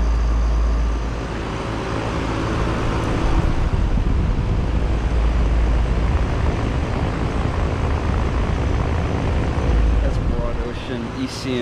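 A brand-new 2024 Lennox Merit ML17XC1 outdoor air conditioner with an ECM fan motor and scroll compressor runs close by, giving a steady, loud broadband whoosh and rumbling drone throughout.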